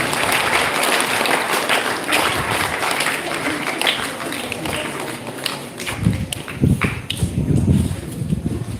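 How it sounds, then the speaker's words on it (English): An audience at a school event gives a big round of applause for the guests. The clapping is loud and dense throughout, with a few thumps and a brief voice near the end. "So we will please give a big round of applause as they are here."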